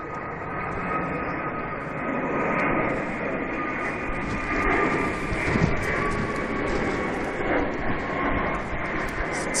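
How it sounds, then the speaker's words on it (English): A jet airliner climbs steeply out of Manchester Airport, a steady broad engine roar heard at a distance and holding level throughout, with faint voices underneath. "Wow, steep takeoff."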